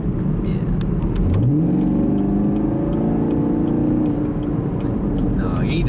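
A 455-horsepower 2017 Chevrolet Camaro SS engine revs up hard as the car accelerates, a loud rising roar heard from inside the cabin while a person talks over it.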